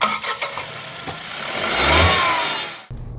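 Inside a Tata Punch CNG, its 1.2 litre three-cylinder engine revs up from a rough idle, rising to a swelling rev around the two-second mark before cutting off abruptly.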